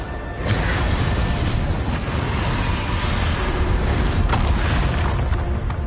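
Spell explosions from Bombarda and Confringo in the Hogwarts Legacy video game make a loud, continuous booming rumble with dense crackling blasts. They run steadily for several seconds with no voices.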